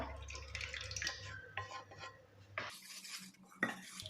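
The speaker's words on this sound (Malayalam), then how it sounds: "ഇതിപ്പോൾ നമുക്ക് പാലിനകത്തേക്ക് ചവ്വരി ഒഴിച്ചു കൊടുക്കാം." Cooked, cooled sago poured into milk for a sabudana drink, with spoon clinks against a bowl and pan, a short pour and stirring scrapes, close and moderately loud, no talk.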